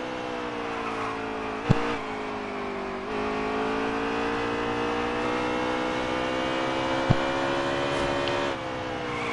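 Race cars roar around the short Bristol oval in a cup race, a steady layered engine drone with rising and falling pitch as cars pass, two brief sharp bangs standing out, no talk.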